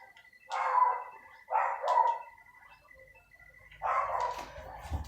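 A dog barks in three separate bursts, each a cluster of sharp barks with pauses in between, fairly close and moderately loud over a quiet room.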